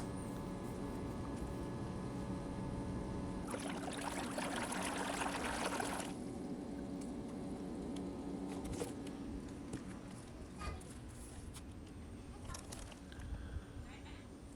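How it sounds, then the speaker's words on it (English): Steady rushing and trickling of water from an Intex sand filter pool pump recirculating water, with a constant mechanical hum and a louder surge of splashing partway through. "it is recirculating water, dirty water from the pool through the filter media and then back out to the pool."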